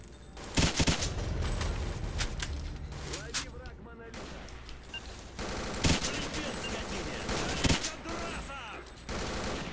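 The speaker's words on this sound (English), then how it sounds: "Okay, where are they shooting from this time?" Gunfire in S.T.A.L.K.E.R. Misery: repeated bursts of rifle and automatic fire crack out in clusters across the whole stretch, some close and loud, others more distant, with a voice speaking over parts of the firefight.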